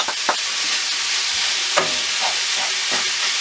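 Onions and minced meat fry and get stirred around a pan for keema matar, a close, constant hiss of sizzling punctuated by a few sharp scrapes and clacks of the spoon.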